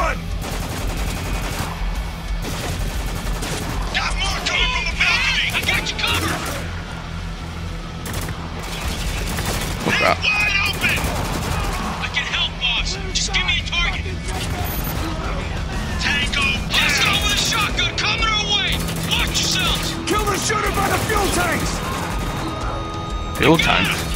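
Gunfire in the shooter video game Spec Ops The Line: dense bursts and repeated shots crackle throughout, over continuous battle noise, and voices shout now and then.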